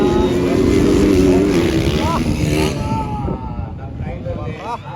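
Motorcycles racing in a bar-to-bar motocross contest in Mindanao, engines whining and revving loudly up close while an excited announcer shouts over them throughout.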